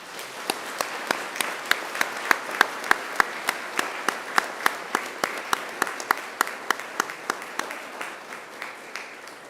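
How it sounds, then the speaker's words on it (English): Graduates at a Macquarie University graduation ceremony turn and applaud their invited guests, a steady round of clapping with sharp individual claps standing out over a dense wash of hands, sustained for the whole stretch without speech. "Turn to face your invited guests and give them a huge round of applause"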